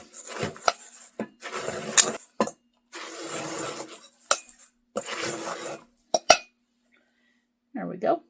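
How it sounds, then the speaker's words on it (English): A glass jar crushes crackers in a bowl, giving several separate bursts of gritty crunching and scraping broken by short silences, with sharp clinks of glass against the bowl, close and fairly loud. "I just take an old clean jar, and use it to crush the crackers in the bowl"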